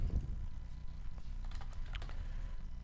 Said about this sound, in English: I'll just type in my text first.